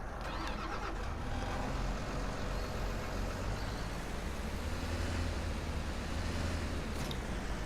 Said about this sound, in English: So I got my wheel loader.